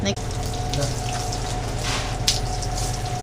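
Water pours and splashes steadily onto the floor of a mushroom-growing shed, a continuous close running wash with a low mechanical hum underneath.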